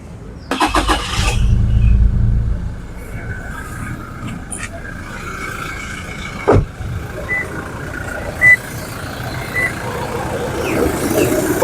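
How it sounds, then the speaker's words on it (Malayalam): A Toyota Fortuner starts up with a short loud crank and catch, then settles into a quiet, steady idle, with a few brief beeps and someone talking over the running engine. "വണ്ടിയുടെ സൗണ്ട് നിങ്ങൾക്ക് വ്യക്തമായിട്ട് കേൾക്കാം വളരെ സൈലന്റ് ആയിട്ടുള്ള ഒരു എഞ്ചിനാണ്"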